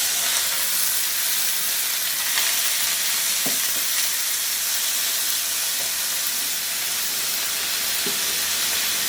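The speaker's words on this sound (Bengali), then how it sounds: "ওর মধ্যে এই মাংসগুলা দিয়ে ভেজে নিব।" Meat and onions fry in a hot frying pan for a Philly cheesesteak, giving a loud, steady, hissing sizzle with a few faint stirring clicks and no talking.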